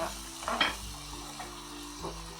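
A spoon stirs grated tomatoes into a mushroom sauté in a pan, giving soft scrapes and a clink over a quiet, low sizzle.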